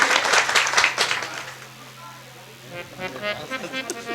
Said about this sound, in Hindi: एक बार बच्चों के लिए जोरदार ताली से सम्मान आप लोग करें